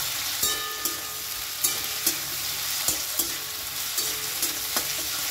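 Ginger garlic paste with soy sauce being stir-fried in a pan: a steady sizzle broken by regular stirring scrapes and light clinks, close and fairly quiet, with no talking.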